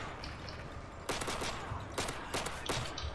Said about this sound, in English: there's so much gunfire in your direction